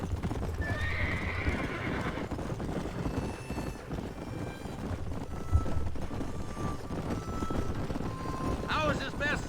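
A horse gallops with steady clip-clop hooves in Red Dead Redemption, with wind rushing past and neighs and whinnies rising near the start and end. A voice speaks beneath the riding noise.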